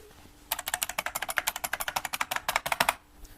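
Typing on a Unicomp Ultra Classic 103-key buckling spring keyboard, a modern Model M style board: a fast, steady run of about thirty loud, crisp clacking keystrokes close up, then it stops.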